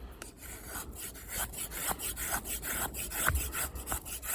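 An Opinel No. 8 carbon steel knife with a factory edge shaves feathersticks from wood in repeated rasping strokes, close and fairly loud, a steady rhythm of scraping pulls with no voices.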